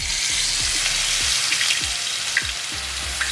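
Pieces of masala-coated fish hiss loudly in smoking-hot oil, a constant close sizzle broken by several soft thuds and pops as pieces are laid into the pan, with no one speaking.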